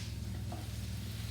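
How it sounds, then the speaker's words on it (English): Pork mince frying in a pan with softened onions, giving a steady, low sizzle and faint stirring under a constant hum, with no talking. "Now I'm going to add the pork mince"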